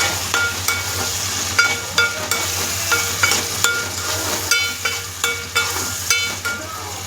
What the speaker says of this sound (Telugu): ఇప్పుడు దాన్ని తిప్పేద్దాం.